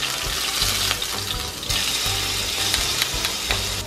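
Pressed garlic sizzles in about two tablespoons of hot oil in a wide pan, a dense steady crackle heard up close with faint low clicks and no speech.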